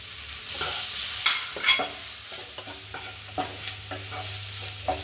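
Grated coconut hits a pan of wilting spinach with a steady close sizzle, while a spoon stirs and scrapes in irregular clacks against the pan.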